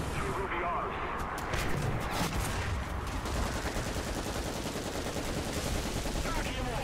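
Anti-air gunfire in War Thunder tank combat, a continuous dense roar of rapid shots and blasts that runs loud and unbroken the whole time.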